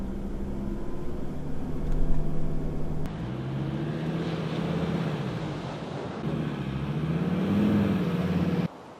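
A 4x4 car on beach sand drives off, its engine holding a low steady drone that shifts pitch and surges, with wind buffeting the microphone throughout and a sudden cut near the end.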